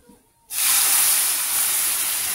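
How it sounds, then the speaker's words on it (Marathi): Milk hits a hot pan of roasted vermicelli for shevai kheer, setting off a sudden loud hiss of steam that holds steady to the end after a brief quiet start. "त्याच्यामध्ये आपण आता दूध ऍड करूया"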